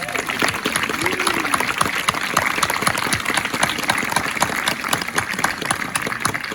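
A crowd claps at the Camp Huronda 50th anniversary opening ceremony, a dense, continuous wash of applause that stays at an even level throughout, with some voices mixed in.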